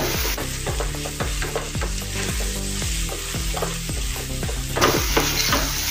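Cauliflower korma masala is pressed and stirred in a pan, with a loud continuous sizzle and a steady rhythm of spatula scrapes repeating about twice a second, close up and with no talking.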